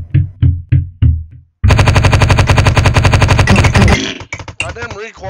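Rapid automatic gunfire from a machine gun in a shooting video game, opening with a few separate loud shots, then a long dense sustained burst lasting about two seconds, followed by scattered shots and brief game effects; loud and close.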